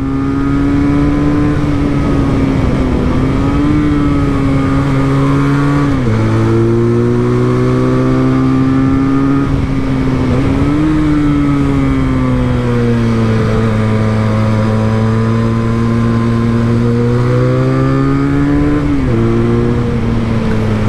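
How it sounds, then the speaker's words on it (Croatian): A 2024 QJMotor SRK 400 motorcycle engine with its factory exhaust gives a loud, continuous, close drone while riding, its pitch stepping up and down through shifts and throttle changes. "fin zvuk ima, obzirom da je ovdje ipak fabrički izduv. Jako fin zvuk, pogotovo kada pređe nekih 5000 obrtaja limit."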